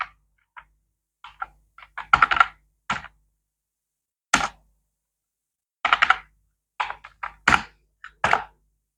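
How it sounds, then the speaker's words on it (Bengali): Someone types a search into a computer keyboard, sharp clicking keystrokes arriving in short irregular clusters with brief pauses between them, close and clear against silence. "তাই আমি ব্যাচেলর পোর্টাল লিখে সার্চ দিতে পারি।"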